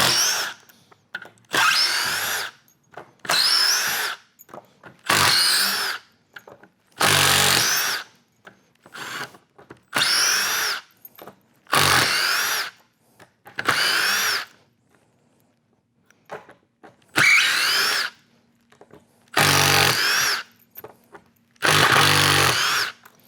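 Power drill with a Milwaukee bit backing screws out of concrete, about a dozen loud whirring bursts of a second or two each, separated by short pauses, close and without talk.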